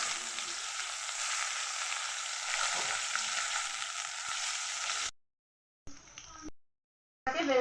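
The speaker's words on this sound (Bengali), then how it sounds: "পেঁয়াজটা আমি লাল লাল করে ভেজে নেবো" Onions frying in hot oil give a dense, steady sizzle for about five seconds, then it cuts out into silence with short bursts of frying returning near the end.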